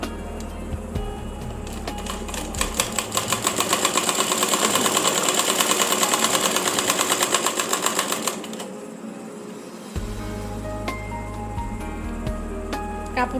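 A sewing machine stitching a double seam on a child's umbrella frock, its needle chattering in a fast steady run that swells to a peak, stops briefly, then starts again in short bursts.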